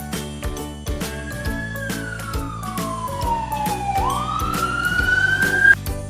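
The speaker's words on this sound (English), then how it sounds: "And the fire truck goes." A fire truck siren wails loudly, one long tone sweeping down and then back up, over a steady toy-like backing beat with no talk.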